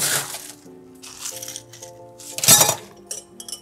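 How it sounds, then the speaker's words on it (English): Ice cubes clink and rattle as they are dropped into a glass for a mezcal cocktail, with bright, close clattering bursts over a faint hum and a louder spill of ice near the middle. "And now we're going to fill this up with ice all the way to the top."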